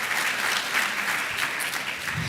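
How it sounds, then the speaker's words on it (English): Steady applause from a conference audience after a presentation at an international statistics data-exchange event, a dense even patter of many hands filling the room without break. "give him a round of applause"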